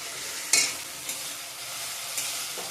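Spice paste, with the oil now separating, fries in a pan of cauliflower-potato paneer curry, a steady hiss broken by a few stirring scrapes, close and moderately loud.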